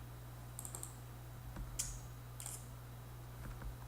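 Password typed on a computer keyboard, a few light clicking keystrokes in short groups over a steady low hum, near and fairly quiet.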